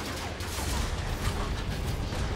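Shotgun blasts from the video game Transformers: Fall of Cybertron, a dense, continuous barrage of gunfire and mechanical clatter that stays loud throughout, with no one speaking.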